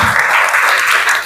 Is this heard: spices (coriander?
no